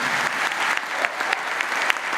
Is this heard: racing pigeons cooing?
no